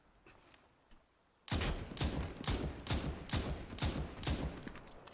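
Rapid bursts of gunfire from the battle royale game Super People start abruptly after a quiet second and a half, then repeat as loud, evenly spaced shots for the rest of the clip.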